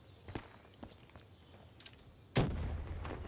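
A grenade bursts in Call of Duty Black Ops III, a sharp close blast followed by a lingering rumble, preceded by faint scattered pops and thuds from the surrounding match.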